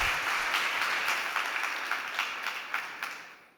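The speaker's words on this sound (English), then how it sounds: "Just a big round of applause to Javier Garrido." An audience at a startup competition applauds a presenter with a dense, steady wash of clapping that gradually thins and fades toward the end.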